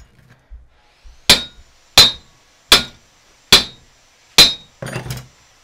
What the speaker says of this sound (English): Lay that on the bottom of your vise and hammer on the drive shaft instead.